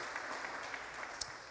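Audience applause for a church congregation's guests, a steady broadband wash of clapping that holds through the whole short stretch, fairly even and moderately loud.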